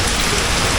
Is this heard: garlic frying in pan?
no